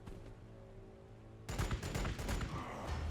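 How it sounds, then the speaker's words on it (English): Bolt pistols firing in Warhammer 40k Gladius break out suddenly halfway through as a rapid, dense volley of shots over a soft ambient hum. "Little bolt pistols."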